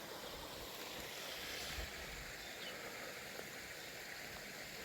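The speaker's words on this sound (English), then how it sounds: "Nice little stream over there running down into it." A small stream runs down into a large old pond in the East Devon countryside, giving a continuous broadband rush of flowing water with a faint breezy hiss and no voices.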